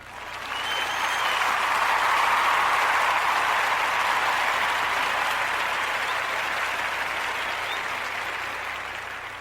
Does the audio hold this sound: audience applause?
yes